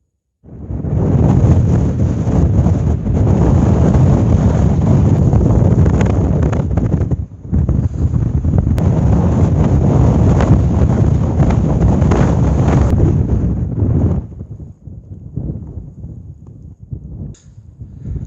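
Strong wind buffeting the microphone on a mountain summit near the peak of Blencathra, a loud continuous roar broken by a brief dip, then dropping to gusty rumbling near the end.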